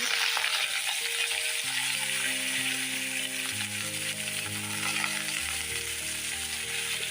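Broad beans fry in a pan with onion and green chillies, giving a steady, close sizzle and crackle that runs throughout, with no voices.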